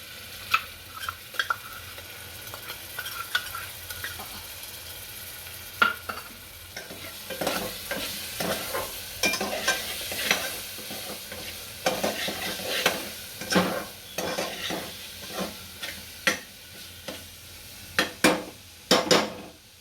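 Masala stirred into softened onions and tomatoes in a pan for a Gujarati dambha vegetable dish, with a spoon scraping and clinking against metal in irregular bursts over a steady low sizzle, close and fairly loud throughout.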